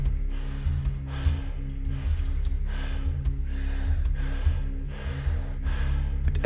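Deep, rhythmic breathwork breaths, close and audible, repeat about every second in strong inhale-exhale pulses over a low droning background tone.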